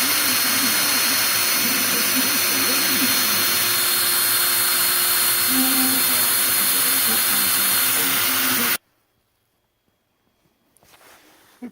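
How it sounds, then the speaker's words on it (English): A lapping tool runs steadily while crowning and lapping a workpiece, giving a loud, continuous mechanical whir that cuts off abruptly, leaving near silence and then a faint low rumble. "I've loaded up my lapping tool again, and we'll continue."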